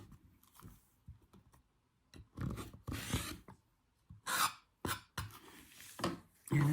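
A rotary cutter rolls along a ruler through quilt fabric to trim half square triangles, making soft close scraping and rasping strokes in short bursts separated by quiet pauses.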